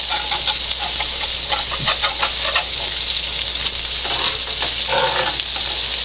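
Smash burger patties frying on a hot griddle, just flipped, a loud continuous close sizzle with bursts of spatter and crackle, no voices.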